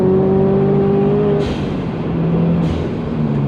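A Subaru STI pulls hard under power, engine droning loud and close with a steady rising tone, interrupted twice by brief airy whooshes.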